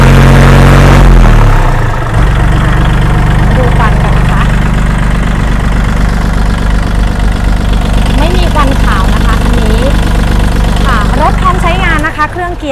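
A used 2018 Kubota L4018 tractor engine idles steadily with a low, even diesel rumble throughout, while someone talks over it.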